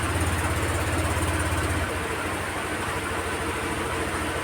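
A Honda Click 125 scooter engine idles nearby with a steady low, pulsing putter that stays even in loudness from start to finish.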